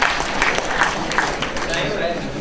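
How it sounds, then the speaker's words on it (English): An audience at a university event breaks into applause, a dense wash of clapping with a few sharper individual claps, while a voice talks over it. "Give him a round of applause."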